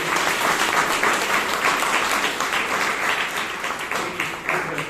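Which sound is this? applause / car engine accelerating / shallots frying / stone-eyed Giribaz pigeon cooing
applause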